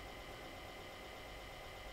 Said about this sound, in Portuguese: Olha o motorzinho. Olha o motor do bruto aí.